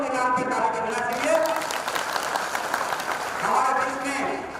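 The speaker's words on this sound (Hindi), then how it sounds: "एक बार और उनके नाम पे ताली करना चाहिए" Brief applause for Karan Singh at a Bhagwan Shri Dev Narayan procession event, a short burst of clapping that rises and fades, heard over someone speaking through a loudspeaker.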